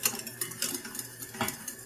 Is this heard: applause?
no